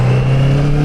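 A Honda CBR650R motorcycle with E-Clutch pulls away under throttle with no clutch lever. Its engine gives a loud, close, steady droning tone through a very brief moment.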